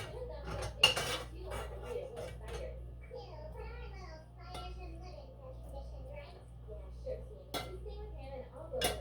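Shepherd's pie filling scraped into a baking dish with a utensil, giving repeated clinks and scrapes of metal on cookware, close and moderately loud, with talk and a voice in the background.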